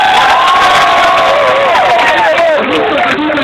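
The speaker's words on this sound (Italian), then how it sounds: "fatemi un bel applauso!" Loud crowd cheering and applause at a live outdoor concert in Capo d'Orlando, with whoops and shouted voices, including children's, rising over dense clapping throughout, close and sustained.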